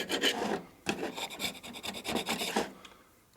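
A solid carbide hand scraper rasping across metal during repair of a 1972 Harley-Davidson XL Ironhead Sportster, giving a run of close, gritty strokes in quick bursts with short pauses between them.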